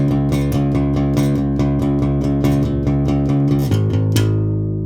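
An electric bass plays a riff with driving, evenly repeated notes over a sustained low tone, loud and close, shifting pitch near the end with no talking.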